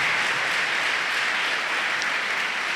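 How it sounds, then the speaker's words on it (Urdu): Churchgoers at a Catholic Advent Sunday service clap loudly for the parents, a steady dense burst of applause that fills the hall without pause and with no voices over it. "ان پیرنٹس کے لیے ہم زوردار تالیاں بجاتے ہیں جو اپنے بچوں کو ساتھ لے کر آتے ہیں"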